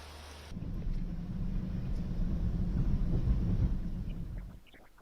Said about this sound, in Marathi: हलक्या स्वरूपाचा हा पाऊस नागपूरमध्ये बरसतोय